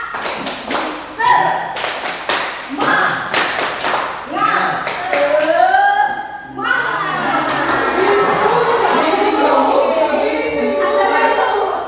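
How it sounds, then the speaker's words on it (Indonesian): A group in a school training session performs a rhythmic spirit clap, sharp clustered claps in a patterned beat, then a burst of sustained clapping and cheering voices, with talk mixed in. "Bapak Ibu, mari kita tepuk semangat."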